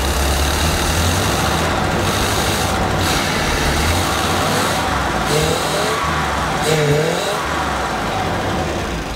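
Motorhome chassis engine running loud and steady, meant for a 1955 Chevy COE build, a continuous heavy rumble with slight revving swells and no knocking, heard close up with no talk.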